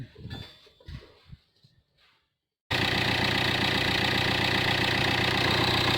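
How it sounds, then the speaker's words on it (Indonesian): A diesel common-rail ambulance engine, just fitted with a battery, catches after a quieter stretch of shuffling and then holds a loud, steady, close idle to the end. "Sudah nyala mesinnya, cukup halus."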